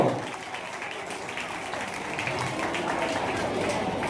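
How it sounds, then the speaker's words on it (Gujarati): Steady applause from a crowd at a community Krishna Janmashtami celebration, a continuous patter of clapping that swells slightly toward the end, with some voices mixed underneath. "જોરદાર એમને તાળીઓથી વધાવજો"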